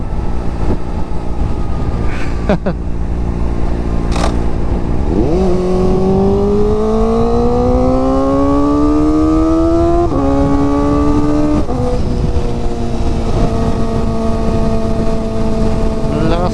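A loud motorcycle engine revs up and shifts through gears while riding on an expressway, its pitch climbing and dropping, over constant rushing wind noise.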